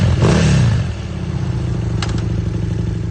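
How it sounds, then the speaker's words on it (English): A Husqvarna motorcycle with an 800cc BMW engine blips its exhaust in a loud, close rev that drops back to a steady, rumbling idle, with a couple of brief clicks. "they created the most aggressive exhaust note you can hear on two wheels"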